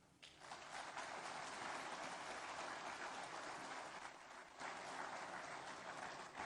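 A long, even round of applause from the audience at the African Caucus of finance ministers in Bangui, dense steady clapping that fills the room, starting abruptly and holding without talk.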